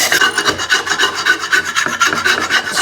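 A wire brush scrubs dried grass crud off the blade mounting area of a Honda HRU216 lawnmower, a loud, close, continuous rasping of quick back-and-forth strokes with no voices.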